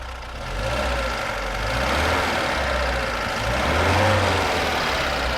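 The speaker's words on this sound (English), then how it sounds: "Engine sounds great." A 1974 Lada VAZ 2101 Zhiguli with its all-original engine runs close by, a steady low rumble with a faint ticking texture and gentle swells in loudness, heard with no talk.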